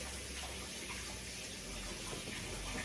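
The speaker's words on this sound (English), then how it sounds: "I'm gonna try to wash that fork because I don't want it to mix the color" Tap water runs steadily into a sink as a fork is rinsed under it, a continuous close hiss with no pauses and no talking.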